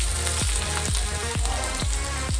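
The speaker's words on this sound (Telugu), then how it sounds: "ఆనియన్స్ ఫ్రై అవుతున్నాయి కదా" A cup of onions frying in hot spiced oil for pepper chicken, a loud continuous sizzle with rhythmic scraping stirs recurring about every half second.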